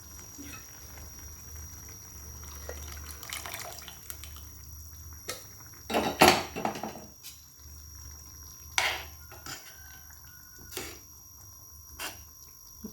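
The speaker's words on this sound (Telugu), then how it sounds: "కొంచెం వాటర్ యాడ్ చేయండి" Water poured into a pot of cucumber dal on the stove: scattered splashes and drips, with a louder gush of pouring around the middle, over a quiet background simmer.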